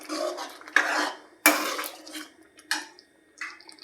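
A spoon stirs and mixes chapadi bhaji with salt and pav bhaji masala in a pan, giving irregular metallic scrapes and clinks in short bursts separated by quiet gaps, close up with no talking.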